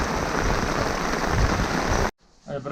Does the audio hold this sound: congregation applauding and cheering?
no